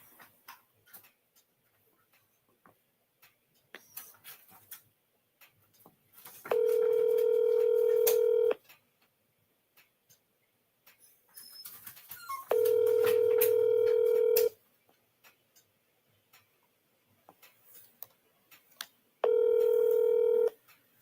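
A phone call rings out unanswered: three long, steady electronic ringing tones separated by quiet gaps, loud and close, with faint background rustling between them.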